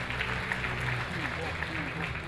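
Audience applause at a fashion gala and award ceremony, a dense continuous wash of clapping that holds steady throughout, with a voice speaking over it.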